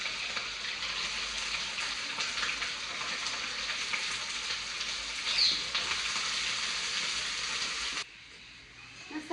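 Chicken mince for momos frying in hot oil in a pan, a loud, even hiss and crackle that holds steady, then drops off sharply near the end.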